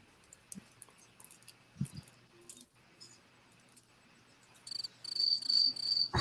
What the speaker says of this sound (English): We have to summon the crickets.